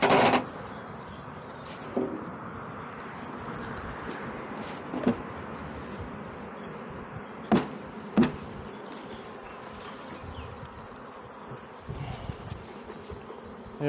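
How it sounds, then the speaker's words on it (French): Honey bees buzzing as they are shaken from a hive feeder during a spring inspection, a steady dense hum throughout with a few sharp knocks and thuds of the feeder mixed in. "On va essayer de faire tomber le maximum d'abeilles du nourrisseur"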